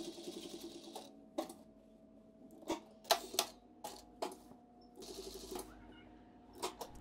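A sewing machine stitching a shirt runs in short quick bursts of rapid needle clatter, separated by pauses with faint handling clicks and a soft mechanical hum.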